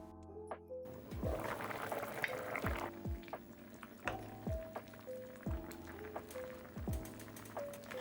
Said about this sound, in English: I'm just adding a bit more water so I can have a lot of broth.